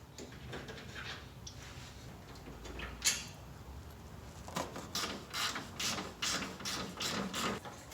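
Hand ratchet backing out radiator bracket bolts on a Toyota 4.7 V8 engine during timing belt work, faint rapid clicking pawl strokes in short repeated bursts, close up with no talking.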